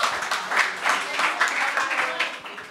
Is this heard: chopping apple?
no